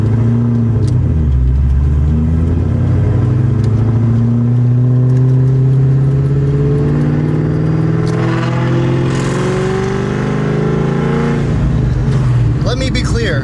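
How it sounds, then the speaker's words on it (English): A car engine revs hard and steadily on a chassis dyno, its loud, continuous roar rising in pitch through the pull. "the car that they had on the dyno on that pull that you guys heard"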